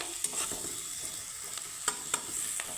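Onion and garlic frying for a butter garlic masala pasta crackle softly while a utensil stirs and taps against the pan in a few sharp clicks.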